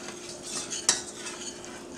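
A whisk works lobster cutlet paste in a pan over heat, a soft continuous scraping and swishing with one sharper clink of metal against the pan midway, close and quiet, no voices.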